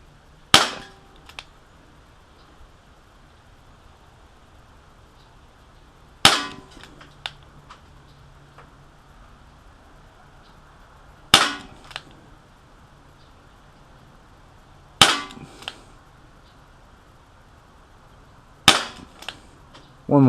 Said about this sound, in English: So we're just going to shoot again,